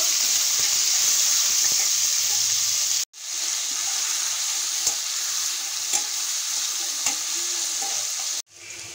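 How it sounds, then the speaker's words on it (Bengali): Chicken pieces seasoned with salt and turmeric fry in hot oil, giving a loud, steady sizzle that runs the whole time, broken by two abrupt drops to near silence and a few faint clinks of stirring. "চিকেনগুলো ভেজে নেব।"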